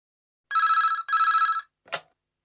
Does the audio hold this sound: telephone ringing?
yes